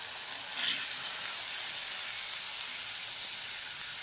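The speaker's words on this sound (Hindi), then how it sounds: "इसमें हम अपना चना डाल दें" Chickpeas drop into a tomato masala frying in a pan for chana fry, followed by a steady, soft sizzling hiss that carries on evenly with a slight swell just after they go in.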